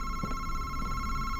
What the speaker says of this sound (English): Oh, the phone's ringing, bro.